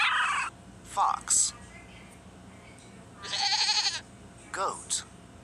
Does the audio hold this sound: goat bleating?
yes